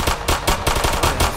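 Rapid automatic gunfire in a Roblox street shooter game, a loud close burst of repeated shots in quick, slightly uneven rhythm with no talking over it.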